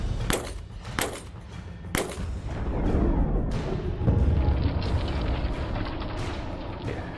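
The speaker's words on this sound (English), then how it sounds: "9mm 115 grain from a Glock." A Glock pistol fires 9mm 115-grain rounds in three sharp, loud shots spaced roughly a second apart, followed by a rumbling, echoing wash of outdoor noise.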